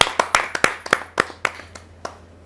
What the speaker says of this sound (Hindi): आप जोरदार तालियों से स्वागत कीजिए